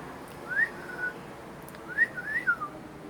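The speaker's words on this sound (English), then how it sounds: "I can't whistle worth shit, obviously." A person whistles near a bird, faint and wavering: a short rising note, then a few quick warbling notes after a pause, over a soft hiss of background noise.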